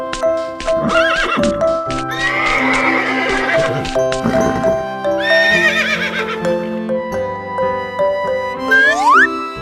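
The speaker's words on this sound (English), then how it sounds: "Horse carriage." A horse-drawn carriage with a horse whinnying and neighing loudly over a steady clip-clop of hooves, set against an animated vehicle-themed backdrop with bright musical tones.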